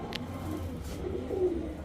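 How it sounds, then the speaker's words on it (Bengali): A Jaggola (pet-kala) pigeon coos softly and briefly near the end, faint against a low steady background hum. "জাগগলা একটা কবুতর, বা কেউ বলে পেটকালা"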